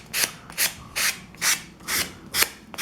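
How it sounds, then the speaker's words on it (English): A sanding block rasps back and forth over a foam model railroad coal load in steady, evenly spaced strokes, close and dry, about six passes with no talking. "You take your sanding block. I start on the ends."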